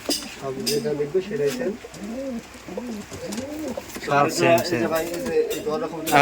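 Rajshahi Giribaz pigeons coo in repeated rolling calls that overlap and grow busier and louder partway through, close by against a quiet background.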